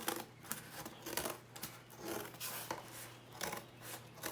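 Scissors snipping through a cardboard shape in a quiet room, a series of short crisp cuts and rustles repeating irregularly at close range, with no talk.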